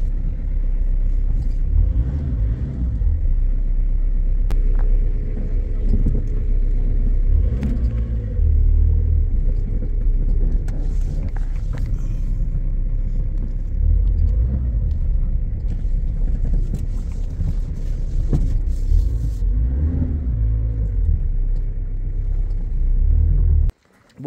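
A Peugeot 106 rolls along the road with a loud, steady low engine rumble and road noise from inside the cabin, with occasional knocks and rattles over the drive.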